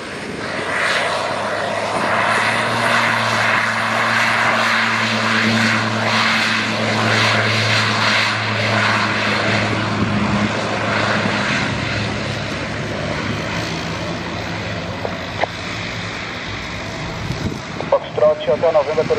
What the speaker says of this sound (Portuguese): Visual com a aeronave alinhando, o Foxtrot 890.